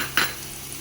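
Capsicum fries with turmeric and cumin powder in a pan for vegetable kurma. A single quick spoon scrape cuts through a soft, steady sizzle.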